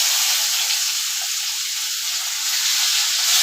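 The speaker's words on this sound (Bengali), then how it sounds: "এরপরে 5 ফোড়ন দিলাম, তারপরে তেজপাতা দিলাম, তারপরে পেঁয়াজ দিলাম" Onions, bay leaf and Bengali five-spice (panch phoron) sizzle in hot oil in a pan, a loud, steady, close frying hiss with no talk over it.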